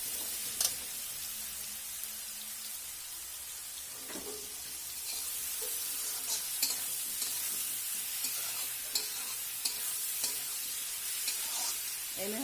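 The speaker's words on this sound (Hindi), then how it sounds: "और हम एक अच्छी तरह भून लेंगे।" Spice paste of mustard, cumin, chili and garlic sizzles in a pan with potatoes and okra while being stirred, a soft steady frying hiss with occasional scraping clinks from the spoon.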